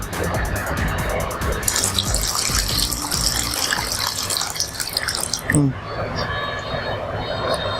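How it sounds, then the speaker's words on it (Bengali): Water is poured out of a clay pitcher for a magic trick, a splashing, trickling stream running for several seconds before tapering off. "কলসের ভিতর থেকে পানিটা আমি ফেলে দিলাম"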